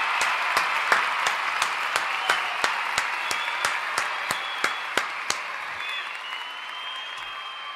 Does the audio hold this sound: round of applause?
yes